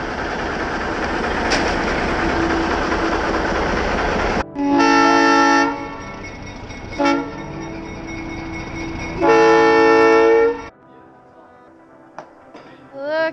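A train horn sounds at a whistle post in a pattern of long and short blasts, loud and near, over a steady rumble of the moving train, with quieter gaps between the horn calls.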